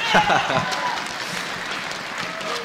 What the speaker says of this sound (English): You can give a round of applause for him.